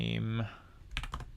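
A short burst of typing on a computer keyboard, a few quick clicks right after a brief spoken sound at the start.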